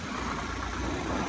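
Motorbike engine running steadily while riding along a rural road near Kirat Park in Rong, Ilam, a continuous close drone with no break and no voices.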